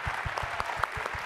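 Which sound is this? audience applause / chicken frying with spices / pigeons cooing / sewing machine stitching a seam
audience applause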